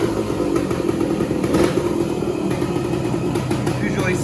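A 1969 Yamaha AT1 Enduro motorcycle runs steadily after a kick start, its engine note close and continuous throughout with a slight rise midway.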